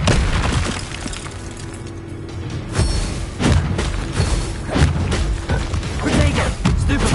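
Spell blasts in Hogwarts Legacy crack and boom one after another, loud, broadband hits arriving in irregular bursts several times across the stretch, with combat rumble between them.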